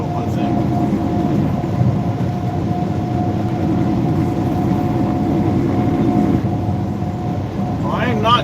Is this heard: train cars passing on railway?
yes